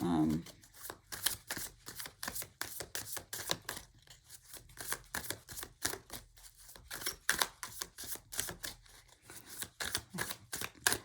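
Tarot cards shuffled over and over in a rapid, crisp riffling rhythm of short bursts, close and fairly loud, with a voice talking underneath at times.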